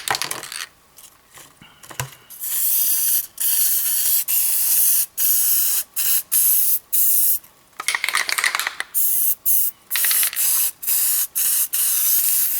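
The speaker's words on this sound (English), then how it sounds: "I'm going to put this in the tray and shake this up and get some, hopefully get some spray glue on it" Aerosol can of spray glue blasting into a tray in repeated loud hissing bursts, short and long, with brief gaps between sprays and a faint clink near the start.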